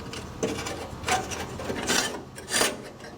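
A new ceramic-tipped burner tube for a Weber Genesis gas grill is slid into place against metal flanges, giving several close, short metallic scraping rubs.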